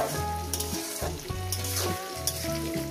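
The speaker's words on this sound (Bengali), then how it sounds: "দিয়ে দেবো লবণ, পেঁয়াজটা যাতে সুন্দর ভাজা হয়।" Onions frying with salt in a pan for a home-style mutton curry give off a steady, close sizzle that runs the whole time, partly under tuneful background music.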